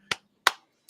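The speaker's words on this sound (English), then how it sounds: "We'll clap it up for Jalen Johnson" Three sharp, separate hand claps ring out at a slow, even pace, each one crisp and close against otherwise silent surroundings.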